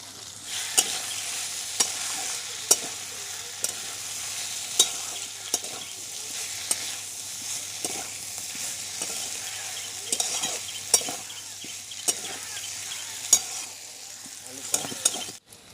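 Potatoes and figs cooked in mutton fat are stirred in a hot pan, a steady sizzle punctuated by regular scraping clicks of the spoon against the pan, close and fairly quiet, with no talking.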